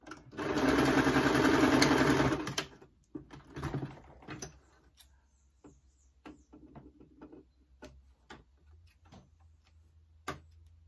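A home sewing machine stitches a bag lining with a backstitch: a loud, steady whir of needle strokes for about two seconds, then stops, followed by quiet scattered clicks and handling taps.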